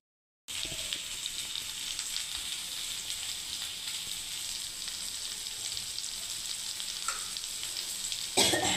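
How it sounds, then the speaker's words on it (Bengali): Pointed gourd (potol) fries in oil in a kadai, a continuous close sizzle that stays even throughout with light crackling and no talk. "ভালো করে একটু বন্ধুরা ভেজে নেবো"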